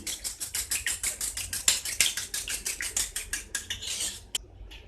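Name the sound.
beating eggs with salt for a chicken omelette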